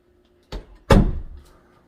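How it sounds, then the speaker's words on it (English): A door at home closes in the dark with a light knock followed by a louder, heavier thud that briefly rings out, close and otherwise quiet. "Close the door."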